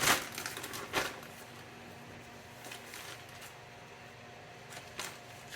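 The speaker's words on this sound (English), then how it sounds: "So now I'm going to put all the pieces into a 1 gallon Ziploc bag." Chicken pieces are packed into a 1-gallon Ziploc bag, producing close, intermittent plastic crinkles and rustles, with louder handling bursts at the start and near the end over a quiet background.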